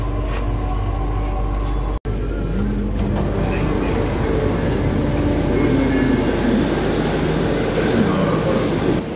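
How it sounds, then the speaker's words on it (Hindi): A fully loaded Delhi Metro train rumbles steadily through an underground station near New Delhi railway station, a loud continuous roar with rhythmic rattling and a short dropout early on. "अब ये जो ट्रेन आप देख रहे हो सामने फुल्ली लोडेड ऐसी ट्रेन है।"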